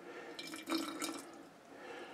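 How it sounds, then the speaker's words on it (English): Water is poured from a tap into a jar of thick, tacky sourdough starter, giving a faint, brief splashing trickle of drips and small splashes that fade within a couple of seconds. "This one here is going to need just even more, a little bit water."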